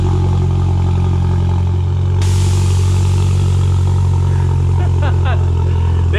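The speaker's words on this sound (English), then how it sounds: "All right, so let's get a last exhaust." A Mercedes C250 with a DEVTEC Stage 2 exhaust rumbles loudly and steadily close by, a heavy low drone throughout with a surge midway and a few rattly pops near the end.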